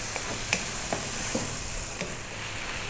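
Liver frying in a pan, a steady soft sizzle with a few faint stirring scrapes, quiet and close, with no voices.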